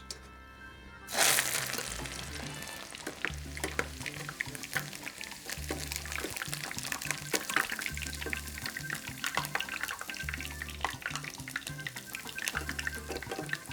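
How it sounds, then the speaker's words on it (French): Morum flowers drop into hot oil and fry, first a burst of crackle after a quiet start, then a dense, steady bubbling sizzle that continues at moderate level to the end. "Là, notre huile est chaude. On va pouvoir mettre notre fleur morum."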